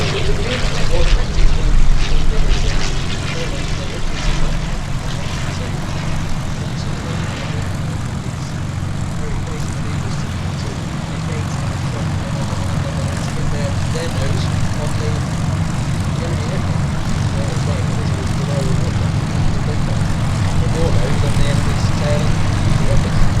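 Vintage WWI Fokker triplane and biplane engines at the Sywell airshow drone steadily and loudly overhead, a continuous propeller roar with a commentator talking over the public address throughout.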